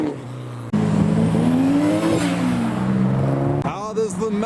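Modified cars such as a Corsa, a Beetle and Nissan S14s roar out of the Trax 2021 car show, one loud engine droning and revving with rising and falling pitch close by before another accelerates hard at the end.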